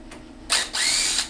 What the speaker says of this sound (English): the drill bit I'm using sort of worn down a little bit, so it's not gonna grab the wood super hard